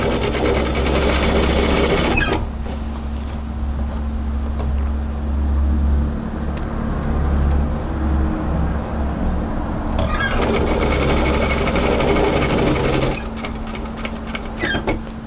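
A domestic sewing machine stitching apron fabric, a loud close motor whir with rapid needle chatter running in long bursts, easing briefly between runs with no voices.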